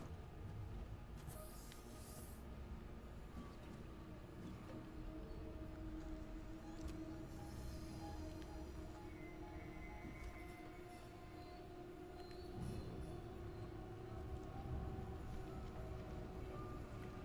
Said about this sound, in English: I wonder what the timing on those trains is like then.